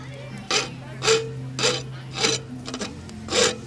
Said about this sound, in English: you can actually hear the metal is pretty soft. It's digging in, taking off the burrs, and making a smooth end piece.